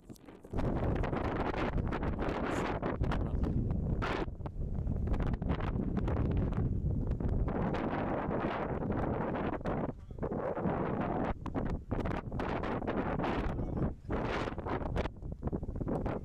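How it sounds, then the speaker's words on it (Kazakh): Strong wind on a trip in Mauritius roars and buffets the microphone. The loud, rough rushing goes on without a break, with brief dips and gusts throughout. "Адам ұшыратындай жел бар."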